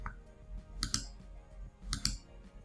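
Mouse clicks on a computer while restoring an Oracle database, two quick pairs of sharp, close, faint clicks about a second apart in a quiet room.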